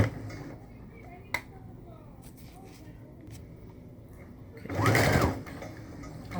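A sewing machine back stitches fabric for a tank top in one short, loud burst of rapid stitching near the end, after a quieter stretch with faint handling noises.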